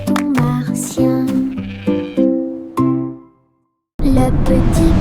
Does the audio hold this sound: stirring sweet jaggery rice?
no